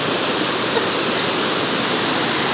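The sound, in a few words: river water going over a waterfall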